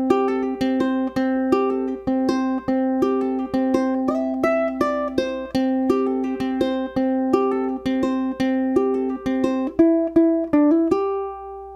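A bluegrass riff fingerpicked on ukulele, with bright plucked notes that are mostly evenly spaced and connected by hammer-ons and pull-offs, played solo and close over about twelve seconds before ending on a ringing final note.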